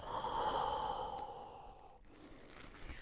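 A long, steady exhale blown out during a bed-based stretching exercise, fading after about two seconds with quiet room tone following.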